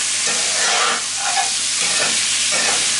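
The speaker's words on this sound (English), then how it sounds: "I'm going to stir fry this." Dark-meat chicken pieces stir-fried in hot oil in a wok, a loud steady sizzle with rhythmic scraping and tossing strokes throughout, no voices.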